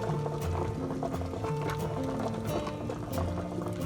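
A spatula stirs thick, hot-process Marseille soap, making rhythmic wet squelching and soft knocking strokes close by.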